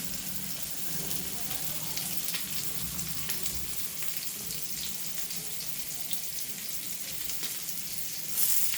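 Rava-coated pomfret fish frying in hot oil in a pan with curry leaves, giving a steady close crackling sizzle throughout with faint clatter from the pan, no voices.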